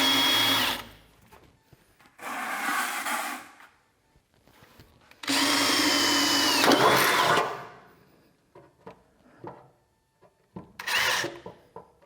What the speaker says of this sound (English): Brand new patch panel. I'm here drilling holes.